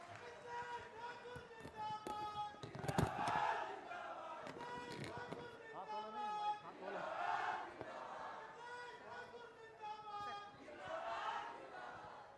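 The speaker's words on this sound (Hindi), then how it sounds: "माननीय मंत्री श्री मिथिलेश कुमार ठाकुर जी को अब मैं आपकी जोरदार तालियों के बीच सादर आमंत्रित करती हूं आज के अवसर पर आपके संबोधन के लिए" Applause and cheering from an audience welcome a minister to speak at a government event in Kalyanpur panchayat, Garhwa district, a steady, fairly loud wash of clapping mixed with crowd noise and some tonal background sound.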